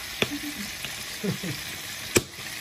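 Garlic fries in butter in a pan for butter garlic lobster, a continuous hissing sizzle with a few sharp clicks and taps of a utensil stirring.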